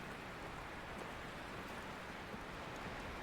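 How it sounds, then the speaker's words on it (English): A waterfall in the Selenitic Age of the video game Myst gives a soft, steady rushing hiss that continues evenly, faint and distant, with no voices. "So over here, you can kind of see a bit of a waterfall."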